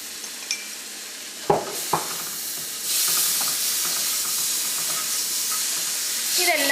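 Tomato, chili powder and salt frying in oil for a Kerala chicken curry. A few sharp knocks of a spoon come first, then a loud, steady, hissing sizzle with stirring that swells again at the end.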